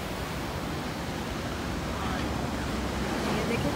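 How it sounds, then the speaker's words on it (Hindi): Large ocean waves surge and wash over a crowded beach, spilling up onto the footpath, a loud steady roar of surf with wind buffeting the microphone throughout. "लहरें क्या है, आउट ऑफ कंट्रोल है"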